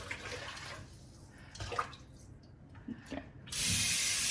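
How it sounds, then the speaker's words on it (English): Water splashes and trickles in uneven bursts for pepper soup, then a steady, louder pour into a pot near the end, close by with no speech. "So this water, I'll add it to the pot"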